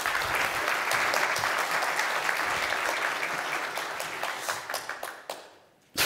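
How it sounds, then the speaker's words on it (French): Conference audience applause for a speaker taking the stage at a Kubernetes tech talk, dense steady clapping from a large crowd that thins into a few scattered individual claps before stopping. "Applaudissez-le."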